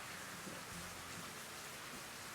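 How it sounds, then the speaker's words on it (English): Heavy rain pours at a mangrove forest in Thailand, a dense, steady hiss at constant faint level with no break and no talking. "It's raining pretty hard."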